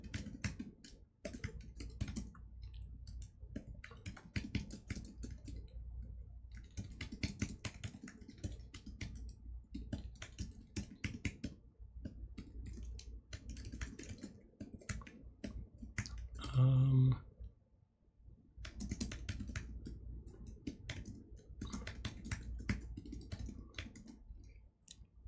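Computer keyboard typing during a coding session, bursts of close keystrokes and clicks that come and go across the clip, with brief pauses and one short louder moment partway through.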